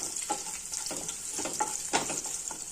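Crushed garlic frying in a pan for onion rice, a soft steady sizzle with faint stirring scrapes, quiet and close with no talk.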